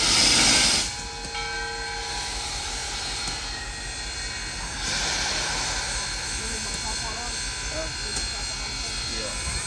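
Southern Railway 630 steam locomotive hisses and rumbles as it slowly moves off a turntable, with steady mechanical noise and a brief burst of steam at the start.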